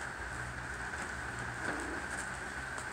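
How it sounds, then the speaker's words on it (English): Pouring rain outdoors, a steady dense hiss of heavy rainfall with no pauses, loud and continuous, and no voices. "I gotta go out now in the pouring rain."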